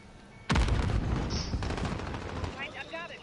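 Rapid automatic gunfire erupts suddenly and loud in Call of Duty Modern Warfare, a dense sustained burst that carries on for a couple of seconds before tapering off under other game sounds.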